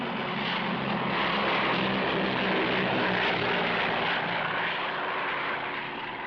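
A fixed-wing airplane approaching to land at Zanzibar, a steady broad engine roar that swells slightly then eases, close and loud, with no voices over it.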